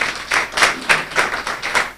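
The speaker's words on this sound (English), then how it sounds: "Doctor, let's give her another hand clap." Audience applause after a public lecture on gender-based violence in higher institutions, a hall of hands clapping in steady repeated swells, moderately loud with no talking over it.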